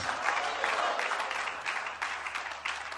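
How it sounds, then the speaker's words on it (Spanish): A church congregation claps for God during a Spanish-language sermon, a lively burst of applause with uneven, pulsing clusters of claps lasting a few seconds, moderately loud and slightly distant. "Denle un aplauso a Dios, mi amado hermano, fuerte."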